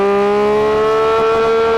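Porsche 911 GT3 RS engine holding a loud, steady high-rev drone, strong harmonic tones sustained close up throughout without a break.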